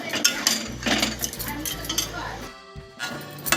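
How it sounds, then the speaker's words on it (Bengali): Chicken sautéed over a low-to-medium flame, with loud metal clanks and scrapes of a utensil against the pan in irregular bursts over a light sizzle, broken by a short pause. "বন্ধুরা দেখুন, আমি চিকেনটা কষাচ্ছি"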